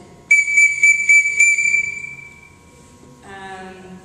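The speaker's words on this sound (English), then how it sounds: "another rule is the emergency blow is 5 whistle blows." A shrill whistle blown in five quick, evenly spaced blasts as an archery range emergency stop signal, then a fainter tone fading out.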